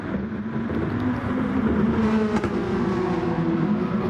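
Race cars in a sim racing game drone at high revs as one slipstreams and pulls out to overtake, a steady close engine whine with shifting pitch.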